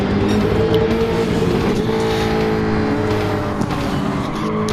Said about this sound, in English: Both cars at their limit through the corners, but Andrew not letting up.